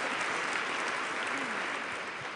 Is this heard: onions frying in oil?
no